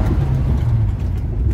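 A 1961 Vauxhall Velox with a 2.6 litre six-cylinder engine accelerates, a steady low engine drone heard from inside the car over a brief moment.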